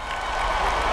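Crowd cheering and applause at a knighting ceremony in the animated film Nimona, a steady dense wash of many voices, fairly loud and continuous for about a second.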